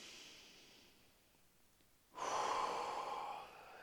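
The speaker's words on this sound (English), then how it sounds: "take a deep breath in" A slow, deep breath is drawn in close to the listener after a near-silent pause, a soft airy rush that swells and then eases off, as in a relaxation exercise.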